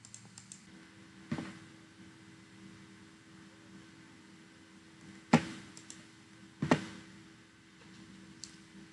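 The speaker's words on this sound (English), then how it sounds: "Now see, I'm clicking on them." Mouse clicks while playing a fruit-smashing computer game: a few sharp, isolated clicks spaced seconds apart over a faint steady hum, close and fairly quiet, with no talking.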